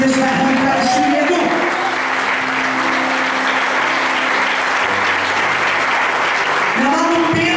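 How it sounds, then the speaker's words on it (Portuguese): A church congregation applauds loudly and steadily throughout, with a preacher's voice rising over the clapping at the start and again at the end. "Eu vou forte aplauso aí."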